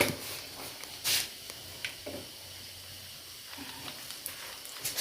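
Mustard seeds sizzling and popping in hot oil at the start of a fish curry, a soft steady hiss broken by scattered sharp crackles and a few louder pops.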